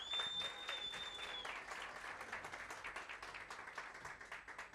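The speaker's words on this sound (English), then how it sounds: "Let's give him a big round of applause." Audience applause at a business chat event, a quiet room of clapping starting full and thinning into distinct individual claps toward the end.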